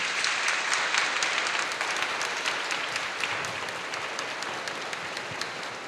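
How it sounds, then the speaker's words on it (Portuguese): A congregation applauds in a church during a homily, dense even clapping that continues steadily and gradually softens toward the end. "Uma salva de palmas de louvor a Deus."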